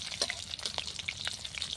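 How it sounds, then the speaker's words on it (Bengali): Radhuni seeds temper in hot oil over a clay stove, giving a soft steady sizzle with quick light crackles and pops scattered throughout, close and without talk. "রাঁধুনি ফোড়ন দিয়ে ভাজছি"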